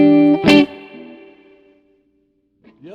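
An electric guitar turned all the way up through distortion and effects rings out in a loud struck chord. It sustains and decays over about two seconds, then a few fainter sliding notes return near the end.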